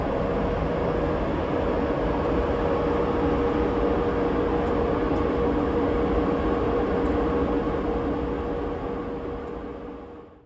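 A 21-coach overnight train pulls out of a London terminus with a steady rumble and a faint sustained tone from the loco, heard from on board, fading away at the end.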